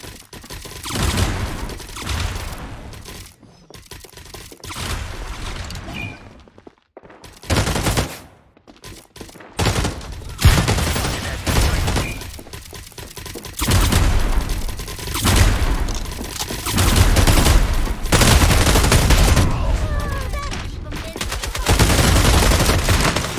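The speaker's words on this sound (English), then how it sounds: "Incoming fire." Dense bursts of automatic gunfire and explosive booms fill the shooter video game FragPunk, loud and near, with brief lulls between volleys.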